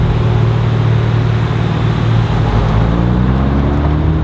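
A 2024 Nissan Z Nismo pulls out of a dealership, its engine note a loud, close, low drone with rising and falling tones as it rolls off at gentle revs.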